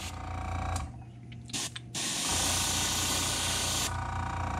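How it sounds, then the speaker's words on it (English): Steady, loud airbrush hiss runs almost continuously while spray painting a crankbait fishing lure, broken by a brief pause and a few short bursts before resuming at full strength. "we're going to get to spraying some paint"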